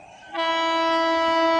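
A Yesvantpur–Howrah Duronto superfast express sounds a loud, sustained horn blast that begins abruptly and holds steady as the train approaches at speed on the main line.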